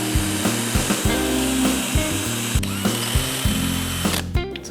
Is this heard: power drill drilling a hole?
yes